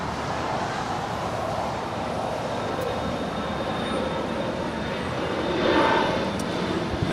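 A United airliner on its takeoff roll from runway 25 right at LAX sends out a continuous, loud broadband jet roar that swells slightly toward the end, with no voices.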